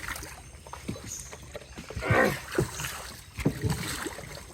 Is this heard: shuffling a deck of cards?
no